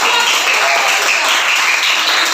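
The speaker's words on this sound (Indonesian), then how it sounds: "Tepuk tangan, aplaus." Schoolchildren in a classroom clap for a group returning to their seats, a short, loud burst of many small hands, bright and continuous over two seconds.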